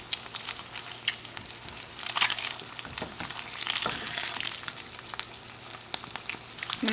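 An egg fries in a keto kitchen pan, giving a steady close sizzle with crackling pops and spits that run throughout, with no talking over it.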